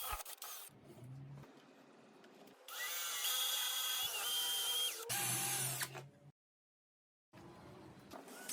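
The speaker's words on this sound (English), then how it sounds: "With my 10mm Forstner drill bit, I will drill 2 holes in both the front upright legs and the rear uprights." A power drill with a 10mm Forstner bit bores holes in wood for an Adirondack chair, whirring in several bursts of varying pitch with short pauses and a brief silence between passes.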